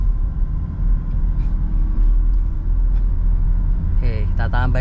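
Steady low engine rumble from a Toyota Innova Reborn pulling in second gear during a night drive, heard from inside the cabin, with a voice breaking in near the end.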